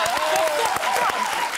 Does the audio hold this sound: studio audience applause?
yes